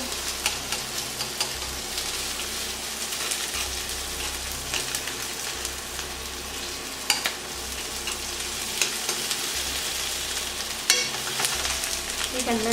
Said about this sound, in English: You can let the onion cook